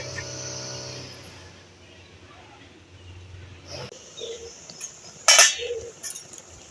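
A spatula scrapes through raw mangoes boiling in a pot before a metal lid clinks down sharply to cover it, followed by a few lighter clatters, with a faint hum early on.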